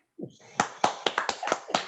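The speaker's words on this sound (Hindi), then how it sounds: "एक बार जोरदार ताली बजाएं।" A short voice, then a handful of separate hand claps in a loose, even rhythm, fairly faint and sparse, as a family birthday gathering begins to applaud.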